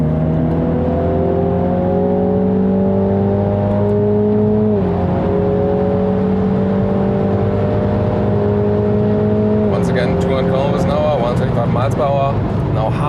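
A Mini John Cooper Works GP accelerating hard along a straight at the Nürburgring, engine drone climbing steadily in pitch with a brief dip at a gear change, loud and close from inside the car.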